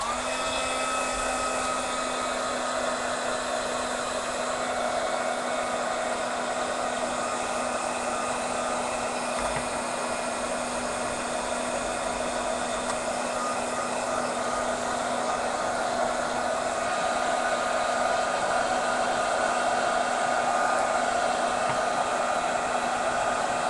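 A hair dryer blows steadily at close range over a mixed media tag, a constant whirring rush with a faint tonal hum that holds unchanged throughout, with no voices.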